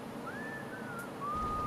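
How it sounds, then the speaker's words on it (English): A cartoon character whistles a thin, wavering tune in an animated fantasy series episode, one long gliding note followed after a pause by a second steady one, heard faintly over a soft background hum. "He's whistling, bro"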